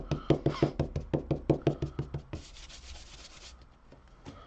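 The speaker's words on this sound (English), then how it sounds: "I'm going to use my embossing buddy here first." An embossing buddy is rubbed briskly back and forth over card stock, making a close run of about a dozen rhythmic scuffs, then a softer continuous wipe that fades out, with no talking.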